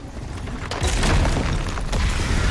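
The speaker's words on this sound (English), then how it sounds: "The booming footsteps that woke him this time were nothing like those of his" Heavy booming footsteps of a large creature in the video game Tails of Iron 2: Whiskers of Winter, deep rumbling thuds with crashing impacts over a loud, dense game soundscape.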